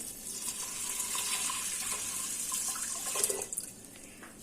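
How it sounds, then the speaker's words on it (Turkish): Water runs steadily into a pressure cooker holding green lentils, a soft, continuous pour heard from close by at low volume, ending with a few splashes and clatters. "Üzerine yaklaşık 2 litre su ilave edeceğim ve haşlanmak için ocağıma alacağım."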